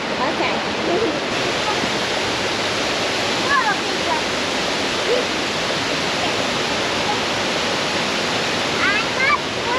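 The Cummins Falls waterfall at a swimming hole roars as a loud, continuous wash of rushing water, with faint voices briefly audible beneath the steady torrent.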